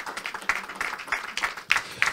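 Audience at a financial services forum applauds a panel of speakers, steady, moderately loud clapping with a few sharper bursts throughout.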